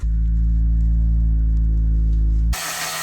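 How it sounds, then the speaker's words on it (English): Grinding a notch into metal to clear an engine starter while fitting a KA24DE engine into a 300ZX Z32: a loud, steady, unbroken power-tool drone that cuts off abruptly near the end, leaving a brief hiss. "we've grinded this nice notch out of here"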